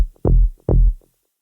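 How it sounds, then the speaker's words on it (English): An offbeat, shuffled sawtooth synth bass in D, made in Ableton's Analog synth, plays two deep, punchy thumping notes, loud and close, with nothing else behind them. "Next thing we want to do is jump into analog and create an offbeat bass pattern."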